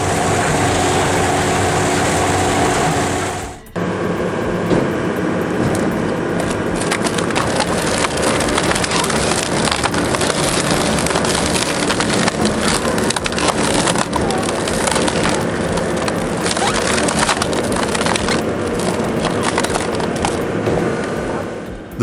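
An industrial shredding machine splits wood along its grain in a loud, continuous, dense crunching roar that starts abruptly after a brief lull and carries on unbroken.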